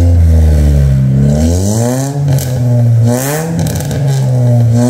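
A Honda Brio fitted with an RJR downpipe, resonator and muffler revs hard and repeatedly, its engine note rising and falling in loud, close sweeps with a raspy exhaust tone.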